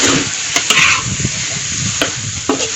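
Catfish pieces fry in a pan over medium heat on a wood fire, a close, bright continuous sizzle punctuated by a few sharp scraping knocks as the pieces are moved.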